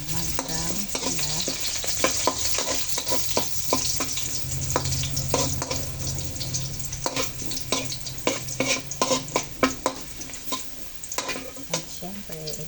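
Ingredients for menudo frying in a pan until browned, a steady loud sizzle broken by frequent scraping and stirring clatter of a utensil against the pan, no talking.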